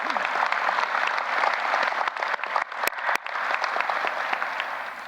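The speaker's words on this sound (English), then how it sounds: "Let's give him another round of applause." An investiture ceremony crowd applauds in a dense, sustained wash of clapping that thins briefly in the middle before swelling again, with a couple of sharp louder claps near the close.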